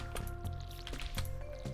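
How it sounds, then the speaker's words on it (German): A watering can in the farming game Stardew Valley pours onto pepper plants, giving several short splashy bursts of water over steady, soft background game music. "Dann gießen wir erstmal die Peperoni."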